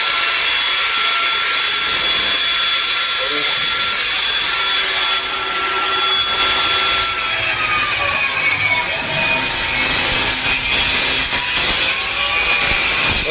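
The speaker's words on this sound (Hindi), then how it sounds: "अब एग्जॉस्ट के ऊपर का लगा हुआ बैंड है वो काटा जाएगा" A cutting tool slices through the band on a VW Polo exhaust pipe, a loud, continuous grinding and rasping drone with whining, shifting pitch that runs the whole time, close up with no talk.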